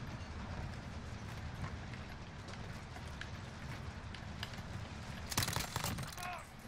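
A train runs in the Call of Duty Warzone video game, making a low steady rumbling roll with faint rhythmic clattering and a louder burst of rattling noise near the end, heard at a moderate distance.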